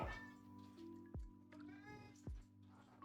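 Pet cat giving a strange, human-like vocal sound, a drawn-out, wavering meow with a few sharp clicks and knocks in between, faint and close in a quiet room.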